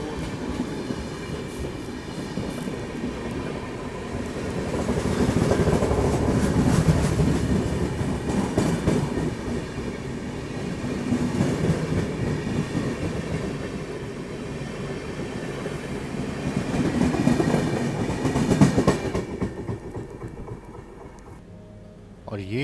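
The Howrah Rajdhani Express runs through heavy fog, its wheels rumbling and clacking steadily over the rails in a loud, continuous drone that swells and eases, heard from on board with faint voices now and then.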